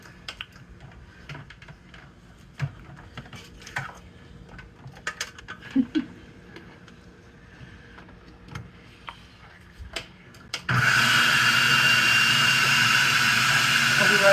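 A blender kicks on and whirs steadily and loudly while mixing mayonnaise, after a stretch of quiet kitchen clatter and a little talk.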